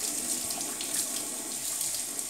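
Tap water runs steadily into a sink while a brand new shaving brush is rinsed, a continuous close splashing hiss with no talking.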